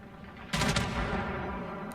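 Heavy warship main-battery guns fire in a single booming salvo in World of Warships, a sharp broadband blast that rolls off into a long fading rumble with no talk.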